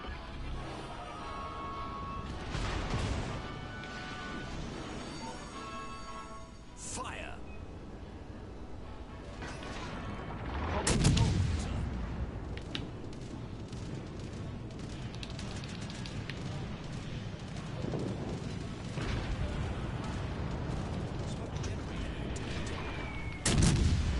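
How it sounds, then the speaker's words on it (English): Naval gunfire in a warship video game, with repeated booming salvos and bursts of gunfire over a constant engine rumble, one loud blast near the middle, while a player talks through much of it. "Guns off to my left."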